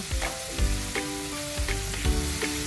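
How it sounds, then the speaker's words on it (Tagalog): Squash, eggplant and bitter melon hit a hot pan of sautéed shrimp for pinakbet, sizzling loudly and steadily while utensils scrape and stir in quick, repeated strokes; no voices. "After natin magisa itong ating uh, hipon, ilagay na natin yung gulay"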